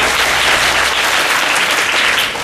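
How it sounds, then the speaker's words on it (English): A seminar audience in Palakkad claps loudly and continuously, a thick wash of applause filling the hall throughout with no pauses. "Big clap for all the Inspire Learning people who are here making this."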